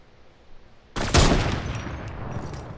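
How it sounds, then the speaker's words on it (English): In Fortnite, sniper rifle shots ring out over quiet background noise: one sharp crack, then a second louder one right after, followed by a decaying echo. "We both sniped at the same guy."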